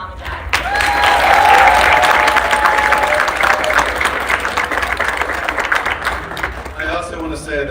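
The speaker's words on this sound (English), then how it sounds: "Another enthusiastic round of applause for Mom and Dad" Enthusiastic applause for parents at a college communications awards ceremony, a dense sustained clapping from a large audience with voices and cheers mixed in, thinning slightly toward the end.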